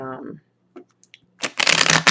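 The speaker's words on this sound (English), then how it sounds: "I'm going to shuffle a couple more times on camera just so that you guys can see it" Playing cards being shuffled by hand, with a quick crisp riffle burst near the end following brief speech at the start and a few faint taps.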